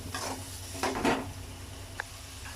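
Chopped onions for a kilichai fish curry sauté in a pan with a soft, quiet sizzle, broken by a couple of stirring scrapes and a light utensil clink.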